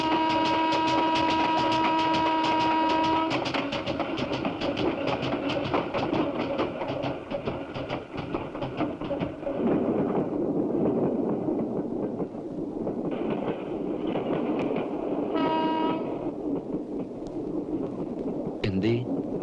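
A passenger train runs steadily on its rails at night, a loud continuous rumble with rhythmic clatter that fills the whole stretch, while a horn-like tone sounds near the start.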